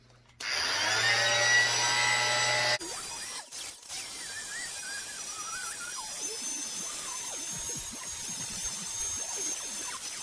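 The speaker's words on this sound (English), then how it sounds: "It's Remington HKVAC 2000. It's like a vacuum cleaner and trimmer in one." A Remington HKVAC 2000 vacuum beard trimmer runs with a loud, steady, whining buzz for about two seconds, then switches off, leaving quiet scraping and rustling close by.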